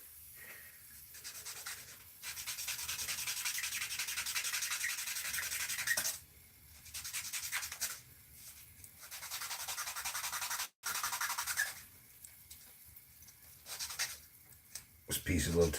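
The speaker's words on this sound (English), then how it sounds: "But this is good for wet sanding. See, it just starts taking it off immediately." Wet sanding with sandpaper on part of a Miller car body, a steady rasping rub that comes in long bursts separated by short pauses, fairly close and alone.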